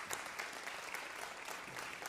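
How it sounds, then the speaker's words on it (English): Audience applause for a stage crew at a live music taping, a dense steady patter of many hands clapping without voices. "Let's give the WoodSongs crew a huge round of applause."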